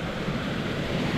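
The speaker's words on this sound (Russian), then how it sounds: "Шумит речушка наша." A small river rushes steadily close by in a Yalta neighborhood in winter, its broad continuous watery roar holding even throughout with no pauses.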